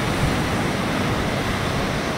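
Strong sea waves surging against the shore and sea wall at Valencia, Bohol, a loud continuous roar of surf mixed with wind noise.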